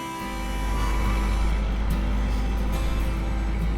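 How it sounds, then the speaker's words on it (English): A truck drives by in a busy little community street, its heavy engine rumble swelling and then holding steady and loud. "You want the noise of the truck?"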